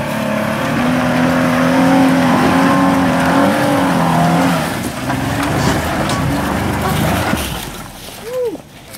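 Race car at a motorsport event accelerating, its engine note rising in pitch, then dropping as it shifts into second gear and loses momentum; loud and steady, with a voice talking over it.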